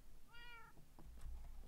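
A cat lets out a single clear meow close by in a quiet room, and a few soft thumps follow.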